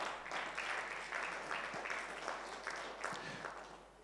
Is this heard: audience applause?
yes